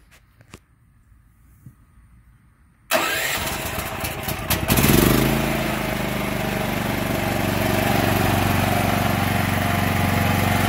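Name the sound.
portable generator engine running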